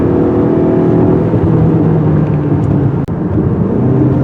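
A 2023 Mazda CX-30 Turbo Premium engine pulls steadily while climbing uphill, a continuous close cabin drone with a low whir and no talking.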